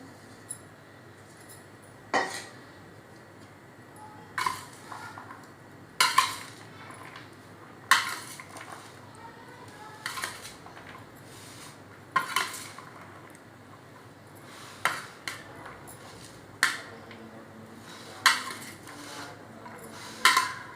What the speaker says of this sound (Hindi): अभी हमने आलू डाल के भी मिक्स करने अच्छी तरह।